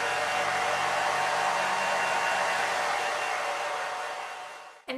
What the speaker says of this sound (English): And then I just sort of dry around the crown, kind of around my ear and around back to where it's still wet